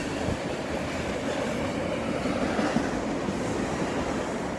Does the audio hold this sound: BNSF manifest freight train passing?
yes